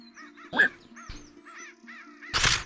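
A human voice mimics a crow, giving two loud raspy caws, the second longer, over a faint steady hum, with no speech.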